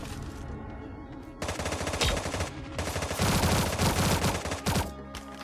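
Rapid automatic gunfire in the Sausage Man battle royale game, solo versus squad, with dense bursts of shots rattling continuously and growing louder toward the end.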